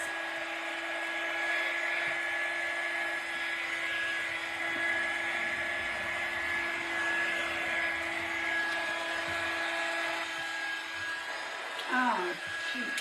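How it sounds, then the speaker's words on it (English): A handheld dryer blows steadily to dry a craft piece, a continuous close whir with a thin tonal whine, ending with a brief clatter. "Let me just dry it so I can just sand those edges too."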